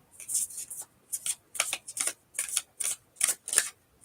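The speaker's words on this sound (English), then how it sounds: "I saw this card as I was shuffling." Tarot cards are shuffled close by in quick, crisp riffling bursts, about a dozen short swishes in a loose rhythm with brief pauses between them and no talking.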